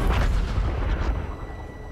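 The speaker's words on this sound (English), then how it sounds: "He's called artillery on himself just because there's like four guys outside." Artillery barrage in Battlefield 1: heavy booming shell impacts and rumble, loud at first then slowly fading over two seconds, with no talking.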